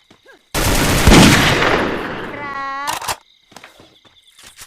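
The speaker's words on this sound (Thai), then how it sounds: "เสียงปืนดังไปอ่ะ" A loud, sustained burst of rapid gunfire in the video game Free Fire lasting a couple of seconds, followed by quiet with faint scattered clicks and taps.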